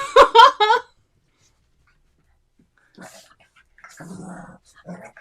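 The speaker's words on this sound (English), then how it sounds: "Dogs, not now. Go somewhere else." Dogs bark three times in quick succession, loud and close. A short silence follows, then faint voices talk.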